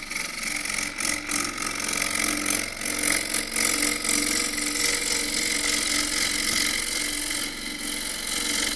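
Woodturning lathe spinning a roughed-out wood cylinder while a 3/8 spindle gouge trues it, giving a continuous close whirring hum with rough, intermittent cutting chatter.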